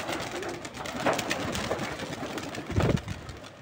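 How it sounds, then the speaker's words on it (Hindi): About fifty pigeons released to fly, with bird cooing and rustling wingbeats in open air, a busier flutter near the end, no talk. "तो गाइज़ उड़ा दिए कबूतर"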